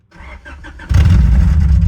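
A Honda H22-powered EG hatchback cranks briefly with a whirring starter, then its engine catches and roars into a loud, rough idle close by.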